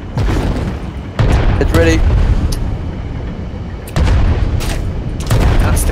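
Pirate ship guns fire in the online game Worlds Adrift, a few heavy booms spread over a few seconds while players talk over them.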